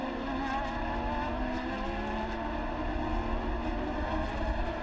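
Formula Renault 3.5 race cars passing at the Hungaroring in 2008, a continuous loud engine roar with layered high revving tones from several cars close together, no talk.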